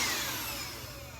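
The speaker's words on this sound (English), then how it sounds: "I am forever grateful for my cordless vacuum cleaner" A Black and Decker cordless vacuum cleaner runs close by with a steady, even whine and airy hiss that holds unbroken and fairly loud throughout, no voices over it.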